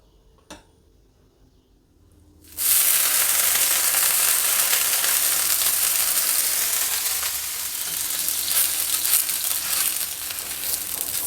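Masala dosa batter sizzling loudly as it is spread on a hot pan, a steady bright frying hiss that starts abruptly after a couple of seconds of near silence and continues with faint scraping.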